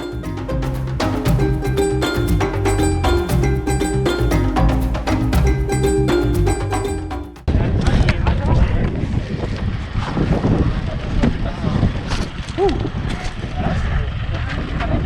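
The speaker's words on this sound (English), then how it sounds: "Very windy up here, so I don't know how much you'll be able to hear" Strong wind buffets the microphone at a desert viewpoint in Mauritania, a steady roaring rush, with music-like tonal layers in the first half giving way to raw gusting noise.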